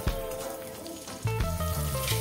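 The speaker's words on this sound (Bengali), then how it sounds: "আমি এখানে ক্যাপসিকামগুলো তেলে দিয়ে ভেজে নিচ্ছি।" Capsicum pieces fry in oil in a pan with a close, crackling sizzle, joined by metallic clinks and scrapes of a ladle partway through.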